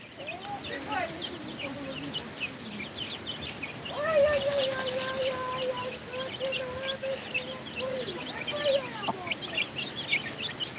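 Chickens cluck and call in a farmyard with chicks around, a clear hen vocalization in the middle over scattered background peeping and insect-like buzzing.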